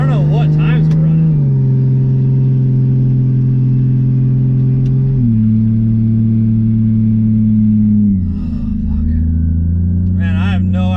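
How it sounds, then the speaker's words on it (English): A race car engine revs hard at a cash race, its loud, steady drone stepping down in pitch at shift points, dipping, then climbing again. "The car's ripping, man."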